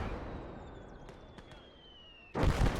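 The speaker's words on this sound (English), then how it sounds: "Mortar's going nuts trying to kill that guy." In the video game Call to Arms: Gates of Hell, a quiet battlefield hum gives way to a sudden heavy mortar blast, a loud rumbling burst near the end.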